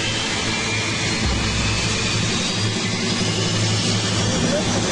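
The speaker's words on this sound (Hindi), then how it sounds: "जेट इंजन्स फेंस से सिर्फ 200 फुट की दूरी पर स्टार्ट होते हैं।" Airplane jet engines starting up about 200 feet from a beach fence, a loud, steady, broadband roar with a low rumble, continuous and close throughout.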